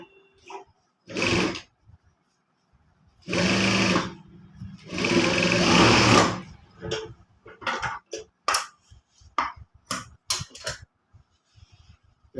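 A sewing machine runs in short bursts while stitching a trouser side cross pocket, with a few longer runs of steady whirring and several quick stops and starts, close and fairly loud, with no talk.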